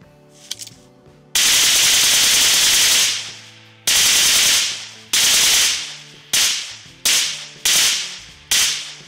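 Loud automatic gunfire in a video game, heard through Huawei FreeBuds 4i Bluetooth earbuds, rips out in long and short bursts, each cutting off abruptly, the bursts getting shorter and quicker toward the end.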